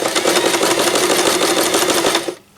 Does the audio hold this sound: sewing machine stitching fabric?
yes